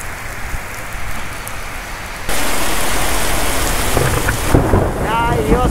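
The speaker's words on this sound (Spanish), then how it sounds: "continúa la lluvia" Heavy rain pouring down in a city neighborhood, with rumbling thunder, the downpour growing suddenly louder and closer midway and continuing as a dense, steady roar.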